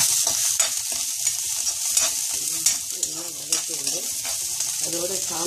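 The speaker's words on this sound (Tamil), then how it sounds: "வெந்தயக் கீரையும் போட்டு நல்லா வதக்கி வதங்கும்போது மஞ்சப்பொடியும் போட்டால் கொஞ்சம் கலர் அழகாக நல்லா இருக்கும்." Fenugreek leaves sauté with turmeric powder in hot oil, a bright constant sizzle close by, broken by repeated sharp stirring scrapes against the pan at an uneven rhythm, with no talking.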